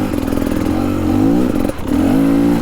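Beta Xtrainer 300 two-stroke dirt bike ridden in second gear over bumpy tree roots, its engine loud and close, pulling steadily with a rev that rises, briefly drops off and picks up again, with clattering from the rough ground.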